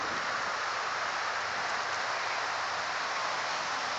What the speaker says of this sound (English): A little babbling brook over here.